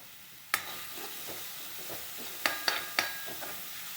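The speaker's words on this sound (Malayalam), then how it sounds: "കാബേജ്, പച്ചമുളക്, ഇഞ്ചി, കറിവേപ്പില, വെളുത്തുള്ളി, സവോള ഇതിൽ ചെറുതാക്കി അരിഞ്ഞെടുത്തത് അതിൽ ചേർത്ത് നമുക്ക് ഒന്ന് മൂപ്പിച്ചെടുക്കണം" Chopped cabbage, green chili, ginger, curry leaves, garlic and onion sauté in a pan with a quiet, steady sizzle, punctuated by several sharp clacks of a spoon stirring against the pan.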